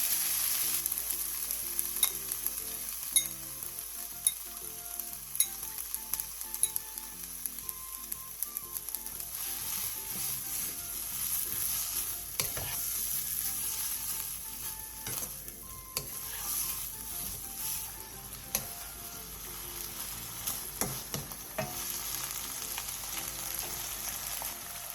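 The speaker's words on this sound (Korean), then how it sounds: "팬에 기름을 두른 뒤 재워둔 고사리와 물 6스푼을 넣고 중불에서 2분에서 3분 정도 볶아주세요" Marinated bracken fern sizzles and fries in an oiled pan with a little water over medium heat, a steady crackling hiss with occasional utensil scrapes and stirring clatter, close and continuous.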